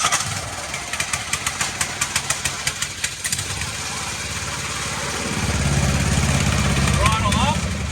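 A small engine cranked on choke with a rapid series of pull-start chugs, then catching and settling into a steady mid-pitched idle that swells slightly louder, close by.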